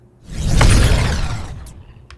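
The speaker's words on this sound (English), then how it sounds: "Then after that, we have the fireball spawn impacts." A fiery whoosh swells into a rumbling burst with crackling flame texture, then fades with a couple of brief high sparkles.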